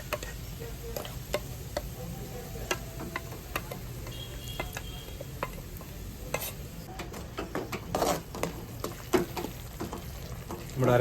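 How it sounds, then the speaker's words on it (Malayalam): Ground roasted-coconut paste goes into a pan for a bitter gourd theyyal curry, giving a low sizzle under repeated ticking and scraping from stirring, a bit louder near the end. "അരച്ച് വെച്ചിരിക്കുന്ന അരപ്പ് ഇതിലേക്ക് ഇട്ട് കൊടുക്കാം."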